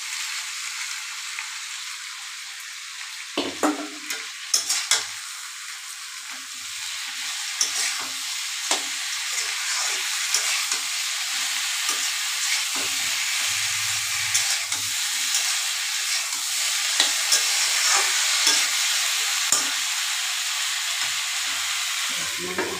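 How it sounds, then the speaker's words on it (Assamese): Tomatoes and potatoes frying in a pan for a fish curry, a steady loud sizzle with intermittent stirring clatters and scrapes throughout, close up with no speech. "সেই বিলাহীখিনি দি দিম।"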